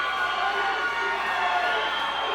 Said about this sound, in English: The crowd is boiling over with anticipation for the man's shirt